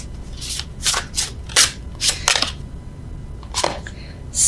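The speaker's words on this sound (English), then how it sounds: "Normally I riffle shuffle, but I don't feel like it." Tarot cards shuffled by hand, not riffled: a run of short crisp papery swishes and snaps, irregularly spaced, close and fairly loud over a quiet room.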